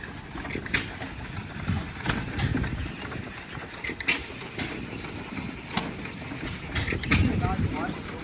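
An antique stationary spark-plug engine at a Power of the Past show being started: sharp irregular firing knocks over a steady low running rumble, with voices talking nearby throughout.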